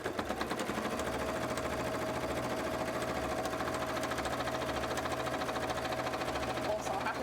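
A sewing machine runs top stitching on cosplay fabric, a steady fast mechanical chatter with a constant hum, close and continuous throughout without a break.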